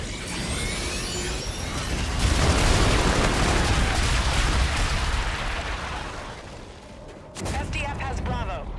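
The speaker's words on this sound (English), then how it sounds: "Enemy bombardment incoming." Enemy bombardment in a war video game, heard as dense rumbling blasts and gunfire layered continuously, loudest in the middle, dipping briefly before another heavy burst; a voice talks over the noise.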